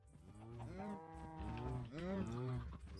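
Cows moo in a Minecraft farm pen, several drawn-out, harmonic lowing calls overlapping one after another at moderate loudness, with no talking.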